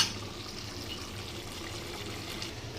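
Drinking water runs into a container at home in a soft, steady trickling pour, fairly quiet and close, with no one speaking.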